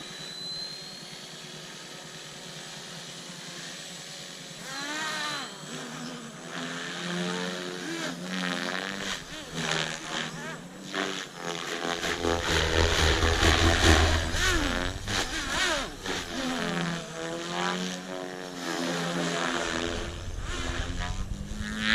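The electric tail motor on a Protos 380 RC helicopter whines at high RPM. Its pitch sweeps up and down over a soft whirring rotor and grows louder as the craft spins up and flies.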